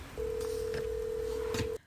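A phone call being placed to a wedding chapel: a single steady telephone tone sounds for about a second and a half, then cuts off abruptly, heard over faint background noise.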